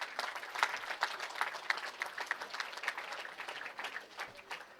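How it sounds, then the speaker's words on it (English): A crowd at a youth bowling championship awards ceremony gives a sustained round of applause, steady and dense at moderate volume without any voices. "how about giving them a round of applause for making this all possible?"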